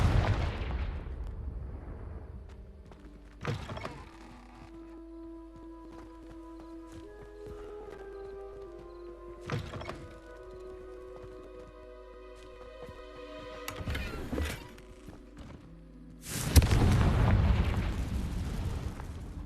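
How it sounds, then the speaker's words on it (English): Confringo spell blasts in Hogwarts Legacy sound as several booming explosions spaced out across the stretch, with a heavier blast near the end and quieter game ambience and tones between them. "Confringo."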